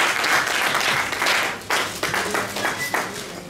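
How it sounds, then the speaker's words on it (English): A crowd claps and applauds steadily for a few seconds, dense and lively, with bursts of louder clapping near the end. "Give yourself another applause."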